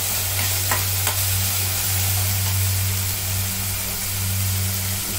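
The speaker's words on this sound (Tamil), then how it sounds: "தக்காளி வதங்குற தண்ணி" Steady sizzling of tomatoes sautéing in a pan, a continuous hiss with a low hum underneath and a few faint clicks of stirring.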